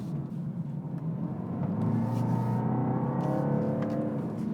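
A 2022 BMW 220d M Sport G42 coupe with a mild hybrid diesel powers out of a corner, its engine note rising into a steady, loud drone of accelerating rumble and road noise, with no talking.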